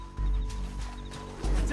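Horse sounds in Red Dead Redemption 2: a couple of heavy hoof thuds and snorting movement close by, with a brief whinny-like rumble under faint background ambience.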